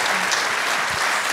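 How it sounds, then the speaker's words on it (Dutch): Audience applause at an award ceremony, Eén van Veldhoven 2018: a thick, continuous crowd clapping, loud and close, filling the moment without speech. "Applaus voor Eva en voor Wil."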